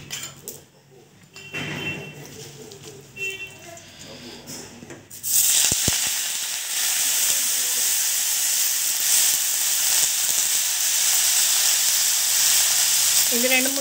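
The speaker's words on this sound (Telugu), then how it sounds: "1 స్పూన్ ఆఫ్ ఆయిల్ వేసుకొని మునగాకు వేసుకొని బాగా వేపుకోవాలండి" Drumstick leaves fry in a spoonful of hot oil for a leaf chutney, a loud steady sizzle and hiss that jumps up after a few quiet seconds with a clink of the pan, then carries on unbroken to the end.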